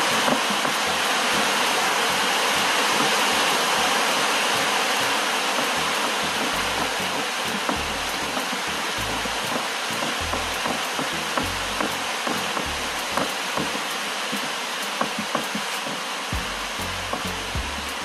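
Steady rain pours down in a dense, constant hiss. It stays loud and close for the whole stretch, with faint scattered taps and knocks mixed in.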